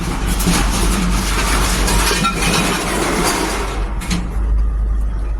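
A tipper truck rolling forward with its bed raised to dump its load, a steady loud engine rumble with broadband rattling and scraping that eases off near the end.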